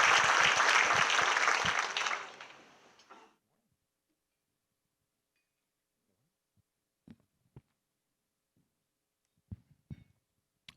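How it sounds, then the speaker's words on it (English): Audience applause at a city State of the City event honoring the mayor and deputy mayor, a dense burst of clapping lasting about three seconds before fading out into near silence with a few faint taps. "please join me in a warm BDA round of applause for Mayor Robinson and Deputy Mayor Nieuwenhuis"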